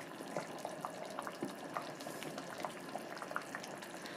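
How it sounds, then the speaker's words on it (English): A pot of beef porridge boils quietly, with thick bubbles popping irregularly over a soft continuous simmer, heard close up and faint, with no voices. "after just 5 minutes, it is boiling like this"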